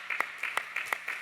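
Scattered, fairly quiet clapping from a church congregation celebrating an infant baptism during a Sunday worship service, a handful of distinct claps falling in a loose, steady rhythm.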